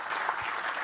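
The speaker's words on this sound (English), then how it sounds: "I think that's a good place to clap." Brief burst of audience clapping at a music business conference panel, soft and somewhat distant, lasting under a second.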